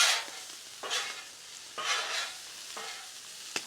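Corn sizzles on a Blackstone griddle with street taco seasoning while a spatula mixes it in four distinct scraping sweeps, each a bright burst over a soft steady sizzle.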